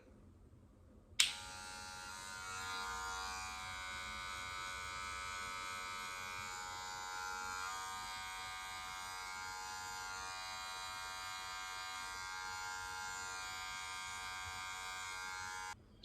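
An electric hair clipper buzzes during a self-cut high taper fade, switching on after about a second and then running as a steady, close, continuous whir to the end.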